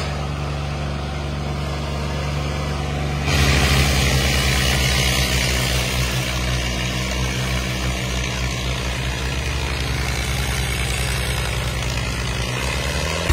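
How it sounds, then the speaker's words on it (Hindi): A heavy tractor engine, an Arjun 605 or Swaraj 855, rumbles loudly and steadily, its pitch and intensity jumping up after a few seconds as it strains under load, with no voices. "कैसा जोर लगा हुआ ट्रैक्टर बढ़िया मजा नहीं आवा पूरा एकदम"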